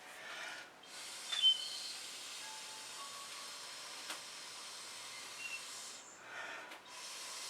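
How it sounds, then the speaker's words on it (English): Breath blown across fluid acrylic paint on a canvas, soft airy hissing puffs, close and faint, in a few separate bursts with short gaps between. "I'm just going to blow that into place."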